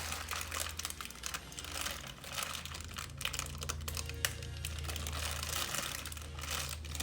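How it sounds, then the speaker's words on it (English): Brownie mix is poured from a crinkly packet, giving a close, continuous rustling and crackling with small crunchy ticks and no talking. "I'm just gonna pour it in there now."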